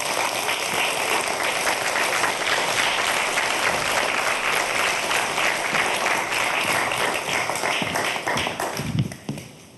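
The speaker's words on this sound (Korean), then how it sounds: "박수로 맞이해주시기 바랍니다." Studio audience applause welcoming a guest professor onto a Korean science television program, dense and sustained clapping that carries on unbroken and fades out near the end.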